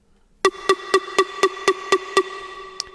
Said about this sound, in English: Here's a pluck.